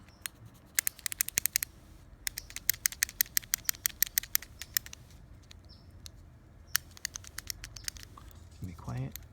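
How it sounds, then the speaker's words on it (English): Sharp, dry clicks from an Antsy Labs Fidget Cube's clicky wheel and switch, coming in quick close bursts with short pauses between them, heard alone at close range. "the clicky wheel for the wheel makes the clicking sounds. The switch can be loud."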